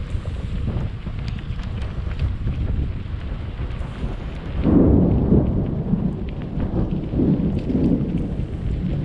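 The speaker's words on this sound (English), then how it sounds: "Oh yeah, here comes the rain." A thunderstorm during a mountain bike ride, steady rain and wind buffeting the microphone, with a deep rumble of thunder swelling midway and rolling on, loud and close, no voices.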